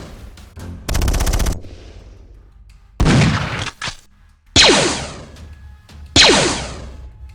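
Loud bursts of gunfire in a tabletop sci-fi skirmish game: a long rapid automatic volley, then several separate shots and shorter bursts, each sharp crack followed by a ringing whooshing tail, with quiet gaps between them.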